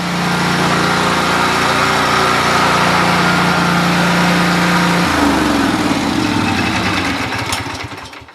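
A Kawasaki engine that sat unused for two years runs steady and loud close by, a buzzing idle that shifts pitch about two-thirds through, then slows and fades as it shuts down.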